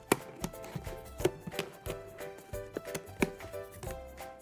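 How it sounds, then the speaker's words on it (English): A plastic bottle is pinched and cut open to make a small slot for a kids' craft coin bank, giving a series of sharp crisp snips and crunches over quiet tonal background music. "Pinch the bottle and cut a small rectangle."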